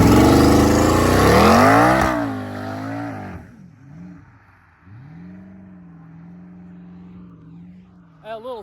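A 1500hp RSP Jeep Trackhawk launches hard with its tires spinning, the engine screaming up loudly then dropping away into a lower, steady drone as it pulls off, with a quick blip at the end.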